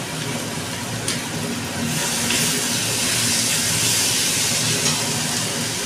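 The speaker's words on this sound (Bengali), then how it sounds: "আগে থেকে ম্যারিনেট করা চিকেনটা এবার আমি ঢেলে দিলাম।" Marinated chicken hits hot oil and biryani masala in a pan, a loud, dense steady hiss of sizzling that swells after the first couple of seconds and holds on without speech.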